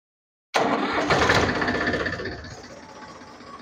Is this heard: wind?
no